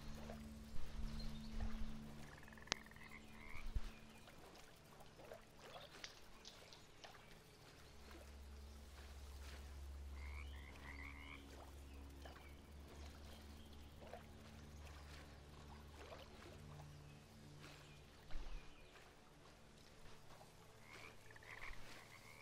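Frogs croak repeatedly in a watery outdoor scene from the video game Bramble The Mountain King, with a steady low rumble and trickling water underneath and no talking.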